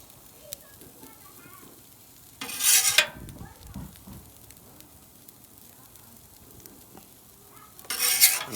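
Onions hit a hot Blackstone 28-inch flat-top griddle for a cheesesteak, bursting into two loud, short sizzles a few seconds apart over a quiet, low background.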